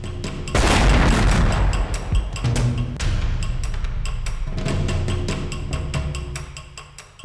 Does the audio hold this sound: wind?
no